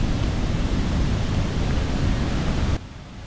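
Rushing canyon stream water in Maligne Canyon in the Canadian Rockies roars in a dense, steady wash of white noise, close and loud, then drops off sharply near the end.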